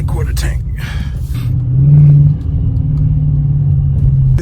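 A 2019 Dodge Charger R/T pulls hard beneath a bridge, its engine rumbling loud and deep with a rising drone. Low-end roar stays steady throughout, with talk early on.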